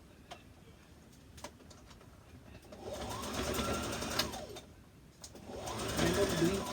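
A sewing machine stitches the back seam of a red zip-front jumpsuit in two bursts of rapid mechanical whirring, each rising out of quiet handling clicks and falling away again, close and fairly loud.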